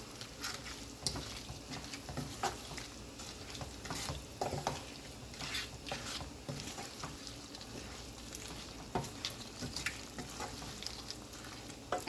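Jamaican pepper shrimp sizzles in a pan while being stirred, giving a steady frying hiss broken by frequent scraping and clattering of a utensil against the pan, close and without talk.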